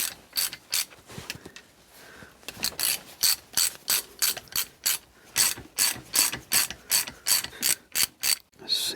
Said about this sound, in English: Yes, I know it's a chrome socket.